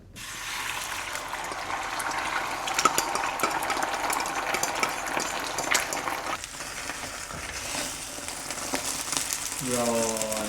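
Food stir-fried in a pan with shrimp among many ingredients, giving a steady close sizzle with scraping stirs and clatter throughout, while people chat faintly in the background.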